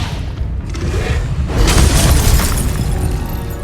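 A Confringo blasting spell goes off in the Hogwarts Legacy video game, a loud booming burst with a whooshing, crackling tail that swells after the first second and stays loud to the end.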